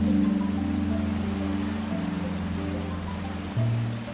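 Steady rain in the farming video game Paleo Pines, a soft continuous hiss running under a sustained low musical drone, with no talk over it.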